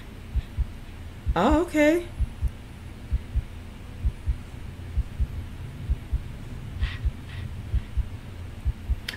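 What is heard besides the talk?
heartbeat sound in Kingdom Hearts soundtrack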